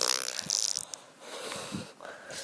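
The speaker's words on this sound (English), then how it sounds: "Doofy, stop farting." A short, raspy, low fart noise for a Lego toy character sputters in several bursts, close and fairly loud.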